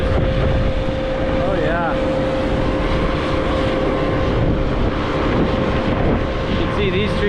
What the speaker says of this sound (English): Trying to catch this wind for you guys